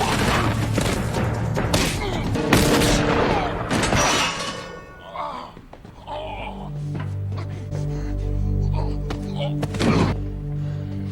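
Gunfire in the Firefly episode The Train Job arrives as sharp cracks and crashing impacts amid a busy scene, with talk and a low rumbling score in between.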